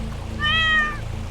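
A cat that has fallen into a trap set for animals gives a single drawn-out meow, near and clear, over a low rumbling background with a faint trickle of water.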